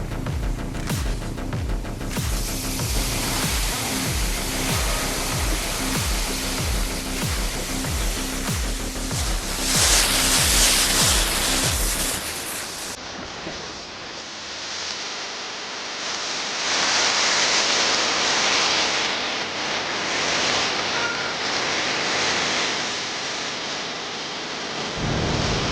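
Waterfall spray drifts across a Kedarnath mountain trek from Gaurikund, a dense, steady rushing hiss like heavy rain, with faint rhythmic thumps in the first half before the wash continues alone.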